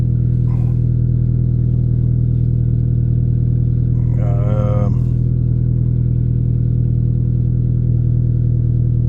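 A steady, loud car engine drones throughout, with a brief swell in revs near the middle; the exhaust note stays constant and close.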